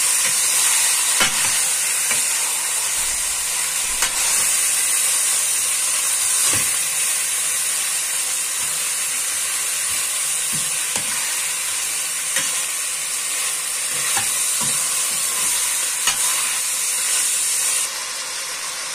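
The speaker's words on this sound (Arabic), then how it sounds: "ملح صغيره، هفضل اشوح فيها" Meat with a little salt sizzles continuously in a pot as it is sautéed, a dense hiss of frying broken by repeated soft knocks of a stirring spoon, fading slightly near the end, no voices.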